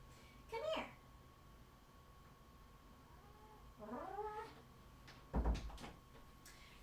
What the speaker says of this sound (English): She sure was meowing outside the door.